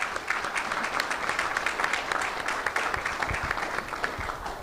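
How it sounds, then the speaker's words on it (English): A crowd at a DC Council budget presentation applauds, with many hands clapping in a dense, steady patter heard from a moderate distance. "So give yourselves a round of applause."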